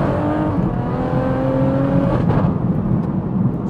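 An 880 bhp BMW M140i being driven hard gives a loud, steady engine drone and road roar heard from inside the car, with rising whining tones and a brief shift in pitch partway through.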